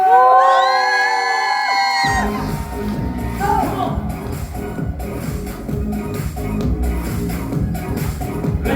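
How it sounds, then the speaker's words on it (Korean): Audience at a musical curtain call, a loud crowd shouting, whooping and cheering continuously after a brief opening of sung or tonal voices, with dense rhythmic clapping-like texture throughout. "같이 소리 질러!"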